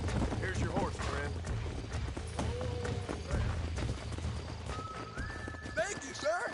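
Horse hooves clip-clopping at a run in the Red Dead Redemption video game, with a brief whinny, heard under game music, talk and other game noise.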